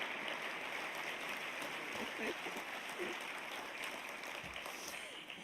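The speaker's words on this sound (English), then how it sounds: "This is a moment where everybody can clap once again" Dense, steady applause from a crowd, sustained throughout and gradually easing toward the end.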